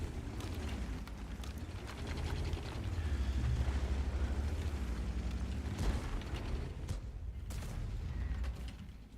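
A destroyed enemy tank erupts in a deep, rumbling explosion during T57 Heavy Tank gameplay in a tank video game, with a low roar that swells, holds for several seconds and then fades under mechanical creaking.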